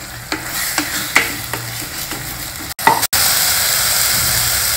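Masala sizzles and fries in a heavy pressure cooker base while being stirred, with soft scraping clicks at first, then a steady frying hiss filling the rest, with no talk.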